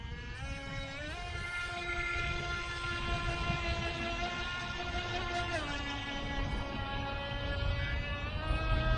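A Feilun FT007 RC boat, converted from a 240 brush motor to a brushless motor, runs at full throttle with a steady high whine that rises in pitch near the start and again partway through, continuous and fairly close.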